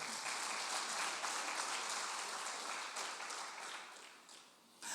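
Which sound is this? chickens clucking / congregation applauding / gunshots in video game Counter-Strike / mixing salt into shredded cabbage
congregation applauding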